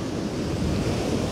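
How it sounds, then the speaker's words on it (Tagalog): Strong ocean surf on a beach surges in a continuous, loud, broadband roar with heavy wind noise on the microphone, and no voices are heard. "malakas ang alon"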